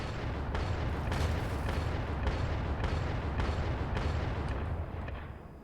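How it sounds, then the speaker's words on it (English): Anti-materiel rifle fire in Factorio, a steady barrage of heavy booming shots repeating roughly every half second, loud and dense, with the salvo trailing off near the end. "let me show you this, the anti-materiel rifle."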